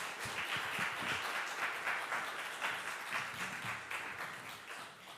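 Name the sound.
congregation applause welcoming the missionary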